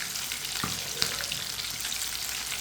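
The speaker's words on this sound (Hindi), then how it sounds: "चिकन को अच्छी तरह फ्राई करना है।" Chicken pieces shallow-frying in a pan sizzle in a steady, close hiss, with a faint spatter and one small clink of a utensil; no one talks.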